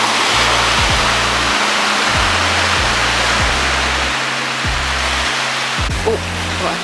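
Water flows at Dadaepo Beach with a loud, steady, broadband rush that fills the whole clip. A low, rhythmic throbbing pulses underneath.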